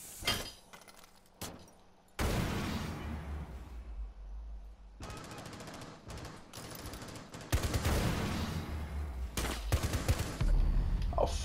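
Gunfire from the video game Rainbow Six Siege comes as loud bursts of rapid automatic shots and some single cracks, separated by short pauses, with sustained heavy firing in the latter half.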